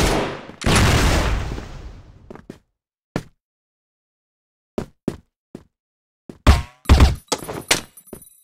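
A flashbang grenade goes off in a video game with a loud, sharp burst followed by a decaying ringing hiss, then a scatter of separate quieter gunshot-like cracks and thuds over the following seconds.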